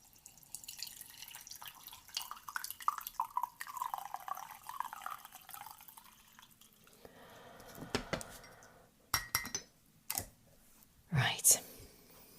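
Brewed green tea is poured out, a soft trickling and splashing of liquid that fades, followed by a few louder close knocks and clinks, with quiet whispery speech over parts of it.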